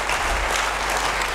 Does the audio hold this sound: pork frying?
no